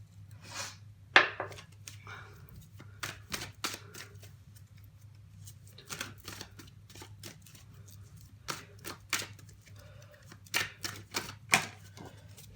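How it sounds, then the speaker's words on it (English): Mermaid Oracle cards are shuffled in scattered bursts of dry, crisp clicks and flicks, close and fairly quiet, separated by pauses over a faint steady hum. "Let's get some Mermaid Oracle cards."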